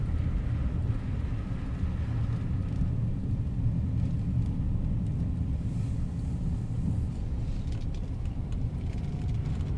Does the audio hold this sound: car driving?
yes